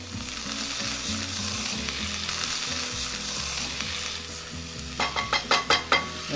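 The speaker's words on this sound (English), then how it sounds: "And now I'm going to add the prepared cactus to it." Prepared nopal cactus pieces frying with onions in a hot pan, a loud continuous sizzle with a busy crackle, then a quick run of clanks or scrapes near the end.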